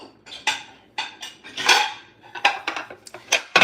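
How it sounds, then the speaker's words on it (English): Dishes and cutlery are unloaded from a home dishwasher, with a quick series of close, sharp clinks and clatters of plates and silverware in an irregular rhythm and no talk. "So now I'm going to unload the dishes."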